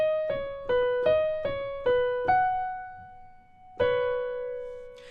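Solo piano plays the fourth bar of a song, a short melodic phrase of about seven clear notes, the last held briefly before a final struck note rings out.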